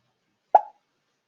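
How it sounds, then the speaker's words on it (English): A single short cartoon pop from a Scratch tennis-ball animation project: one bright, isolated plop about halfway through, quick attack and fast decay, with silence before and after. "The file makes sound pop"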